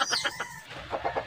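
Chickens at a school cluck in quick, busy bursts, close and fairly loud over a noisy background.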